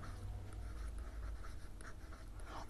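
A marker or chalk writes a word on a board in a classroom lesson, a steady faint scratching with small strokes and pauses throughout, no voice.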